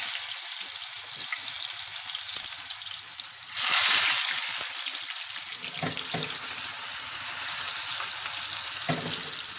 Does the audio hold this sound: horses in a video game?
no